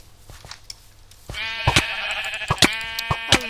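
A sheep in a multiplayer arcade video game lets out a long, loud, wavering bleat after a quiet start, with sharp clicking game sounds breaking in over the cry.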